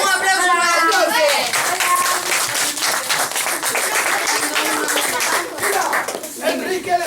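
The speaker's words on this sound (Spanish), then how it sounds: "Un aplauso para el duende." A crowd claps and applauds steadily for several seconds at a school class's Santa Claus visit, close and fairly loud, with children's voices and light chatter mixed in.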